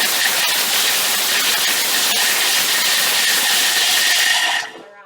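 A Thermomix blade milling cheese at speed 7, a loud steady high-pitched whirring roar that holds for about four and a half seconds, then cuts off and winds down.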